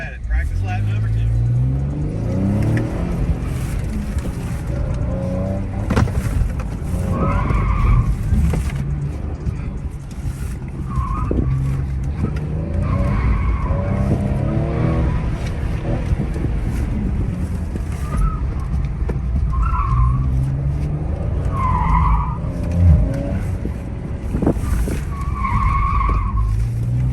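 Ford ST SUV on a practice lap around a cone course, engine droning steadily with repeated tire squeals through the turns, while people talk over it throughout.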